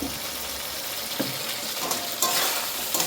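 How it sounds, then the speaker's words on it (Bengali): Paneer fries in a pan with a constant oily sizzle, while a spatula stirs and scrapes, giving a few louder knocks and bursts over the hiss, with no voices. "পনিরটা দিয়ে ভালো করে ভাজবো"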